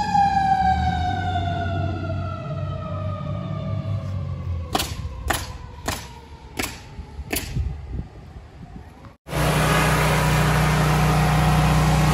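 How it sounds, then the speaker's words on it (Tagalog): A fire truck siren in Fredericton, New Brunswick, Canada wails downward, then five short sharp horn blasts sound before a loud roaring rush of engine and road noise takes over. "Fire truck."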